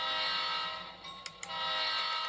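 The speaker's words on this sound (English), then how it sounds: "let's go ahead and pull this train back a little bit" A model train locomotive backs its cars along a one-turnout stockyard industrial lead layout. It gives a steady close whirring hum that dips briefly midway, with two sharp clicks, then resumes.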